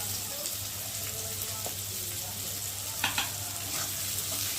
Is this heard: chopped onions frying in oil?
yes